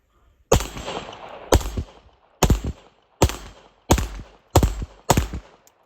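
Seven sharp, loud gunshots from a full-size 9mm Tisas 1911 pistol firing 115 grain XTP hollow points, spaced roughly half a second to a second apart, each with a brief echoing decay outdoors.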